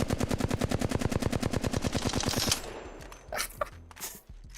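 A gun in Apex Legends fires a long, rapid automatic burst of evenly spaced loud shots for a couple of seconds, followed by a few scattered quieter impacts and trailing noise.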